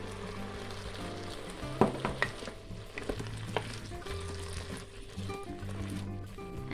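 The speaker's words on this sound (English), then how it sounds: "now that the beef is nice and brown, we are going to add the onions." Onions hit browned beef in a stew pot and sizzle steadily, with a few stirring scrapes and clinks early on, over a constant frying hiss.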